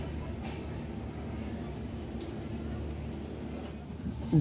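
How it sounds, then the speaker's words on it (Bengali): Steady low rumble of a passenger train pulling out of Dhaka Airport railway station, a continuous moderate drone of wheels and carriage noise with faint background voices. "ঢাকা এয়ারপোর্ট রেল স্টেশন থেকে আমাদের ট্রেনটি ছেড়ে দিয়েছে"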